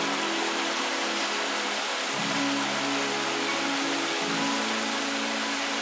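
A loud, steady rush of falling water from the Cascatella Battisti, a small waterfall in the Monti Reatini, close by, constant and without pauses.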